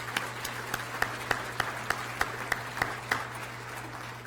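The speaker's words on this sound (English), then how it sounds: "we'll give them a big round of applause as well" A school district address audience applauds committee members, dense steady clapping with a few sharper, closer claps standing out at a loose regular pace, and a low steady hum underneath.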